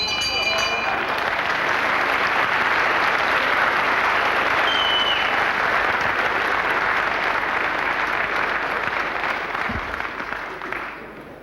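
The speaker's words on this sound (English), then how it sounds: "it really is great to hear this packed Queensway Hall here at Dunstable applauding" A packed wrestling crowd in Queensway Hall, Dunstable, applauding after a good move, a sustained roar of clapping that runs loud and even before tapering off near the end.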